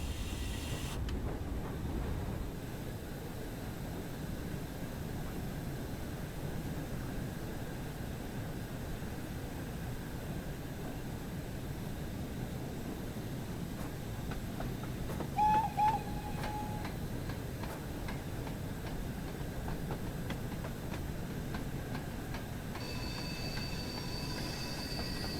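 LMS Fowler Class 4F steam locomotive in the Train Sim World 6 game runs with a steady, loud rumble of wheels and chassis throughout, with a couple of brief whistle-like tones midway and a thin high whine near the end.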